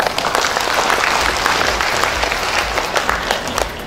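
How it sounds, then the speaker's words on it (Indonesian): Dense, sustained applause from a large audience at a Kopdit Swastisari cooperative annual meeting in Kupang, loud and continuous without a break. "Kopdit, tepuk tangan dulu lah."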